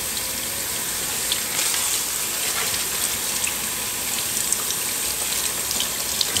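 Steady running water from a tap rinsing dye out of a freshly tie-dyed T-shirt in a sink, a continuous close hiss and splash with no pauses.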